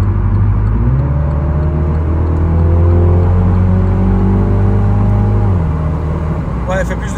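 A car engine runs steadily close by, a loud low rumble that shifts slightly in pitch as it revs up and settles back down.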